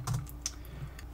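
Quick, close keystrokes on a computer keyboard while typing a layer name in Photoshop, a short burst of several crisp taps over a quiet room hum.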